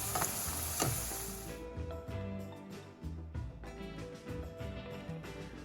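Ripe plantains (maduros) fry in a pan for a Cuban-style dish, a steady close sizzle with a louder crackling burst at the start as pieces are turned, then a softer continuous fry.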